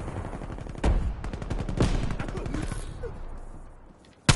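Rapid bursts of video game gunfire from an online shooter, sharp automatic volleys cracking close and loud, with a short pause before a final shot.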